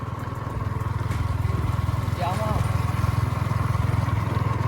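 A Yamaha R15 motorcycle engine runs while being ridden, producing a steady, close droning hum that lasts throughout, with a voice briefly heard over it.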